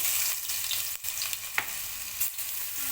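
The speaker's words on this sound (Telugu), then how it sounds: "కొంచెం అల్లం పేస్ట్ వేసి కొంచెం సేపు వేగనిచ్చిన తర్వాత" Ginger paste sizzles in hot oil for an egg pulusu curry, a steady broadband frying hiss with a few brief stirring scrapes and clicks, close and alone without talk.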